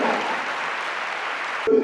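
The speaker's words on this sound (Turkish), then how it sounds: "Sahneyi davet ediyorum alkışlarınıza, huzurlarınıza" An audience applauds as Sunal Akın is welcomed to the stage, a steady wash of clapping that cuts off abruptly near the end, followed by a brief tone.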